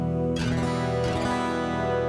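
Guitar heard through a piezo pickup with compression and a touch of reverb, giving a bright, acoustic-like tone; a strummed chord enters after a brief pause, rings out, then is struck again.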